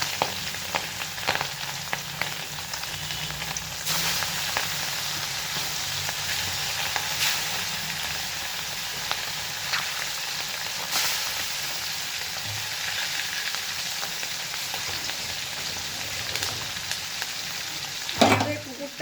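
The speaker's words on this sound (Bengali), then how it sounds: "এই মাছগুলো আমি প্রথমে কড়াইতে দিয়ে দিচ্ছি" Small tangra fish frying in a wok, a continuous close sizzle of hot oil with occasional bursts of spattering and a few scraping stirs, then a louder clatter near the end.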